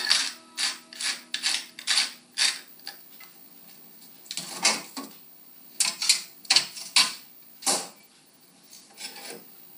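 Black pepper is ground into a squash and cheddar souffle base in a series of short, close gritty grinding bursts, with brief pauses between twists.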